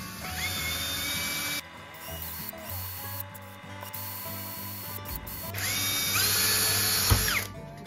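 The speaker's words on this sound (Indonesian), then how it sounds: "Untuk membuat lubangnya saya menggunakan mata bor besi dengan ukuran 2 mm." A power drill fitted with a 2 mm iron bit bores holes while a vacuum LCD separator for phone touchscreens is being assembled, a close, steady whine that stops briefly mid-way and then picks up again.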